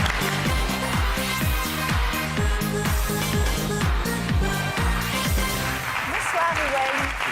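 A TV talent show audience claps steadily for a contestant while a rhythmic, bass-heavy music track pulses loudly underneath.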